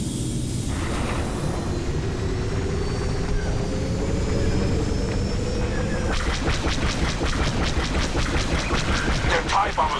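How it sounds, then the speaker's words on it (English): TIE bombers roaring past in a Star Wars Battlefront II space battle, a loud, continuous engine whine and rumble that gives way to rapid pulsing bursts of laser fire near the end. "Their TIE bombers are getting through."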